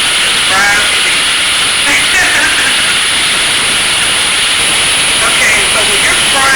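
Cube steak fries in a pan with a loud, continuous sizzle and hiss, heard up close and steady throughout with slight swells.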